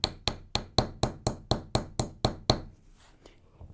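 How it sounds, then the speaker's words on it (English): Ten evenly spaced sharp metallic taps ring out as a big-faced chasing hammer strikes a chasing tool on a metal sheet, steady and close, then stop and leave a faint room tone. "Part of the beauty of this hammer is that I don't have to look at where it hits."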